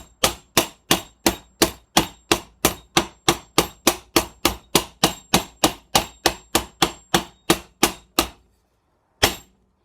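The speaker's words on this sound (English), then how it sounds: "I'll just finish off with the peen end of the hammer." A hammer's peen end strikes a rivet on a custom motorcycle handguard in a rapid, steady run of loud metallic blows, pauses briefly, then lands one final hit.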